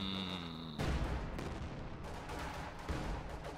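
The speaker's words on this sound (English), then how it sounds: "I can hear more rifle grenades going off." Rifle grenades burst in a Company of Heroes 2 match, a string of blasts and crackling gunfire rolling on with a heavy hit near the start and another toward the end, dense and continuous battle noise.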